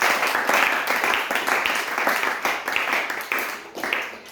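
A church congregation breaks into lively applause, many hands clapping in a dense, rolling burst that swells and fades in waves, heard up close with no voice over it.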